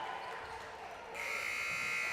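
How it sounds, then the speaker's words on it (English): A buzzer ends the first quarter of a boys' high school basketball game, rising as a sustained electronic tone over crowd and gym noise, with commentary voices underneath. "Beating the buzzer, and that's the end of the first."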